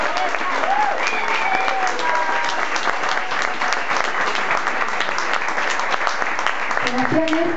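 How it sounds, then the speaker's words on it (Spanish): A festival crowd in Mar del Plata applauds loudly and continuously for a performer, with whistles and a few shouts riding over the steady clapping. "Sebastián del Hoyo, estrella de mar, un aplauso."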